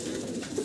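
Pigeons at a farm giving a brief, low, throaty coo, close and steady, lasting under a second with no talk.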